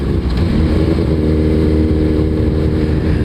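A Suzuki Hayabusa liter-class motorcycle engine drones loud and close at a steady pitch, a continuous low rumble that holds even through the clip with no talking.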